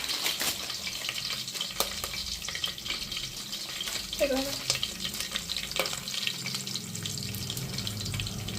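Curry leaves, bay leaf and whole spices crackle and sizzle in hot oil for a biryani, a steady broadband frying hiss with scattered pops and faint stirring clinks, close and continuous with no talk.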